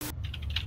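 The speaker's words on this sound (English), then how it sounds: "I can hear you typing, man." Keys on a computer keyboard click in a quick, light burst of a few taps, faint and close, as if picked up over a voice-chat microphone during an online game.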